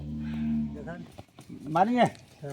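A cow on a cattle farm lets out two loud, close moos: a long low steady one, then a rising and falling bellow after a short pause.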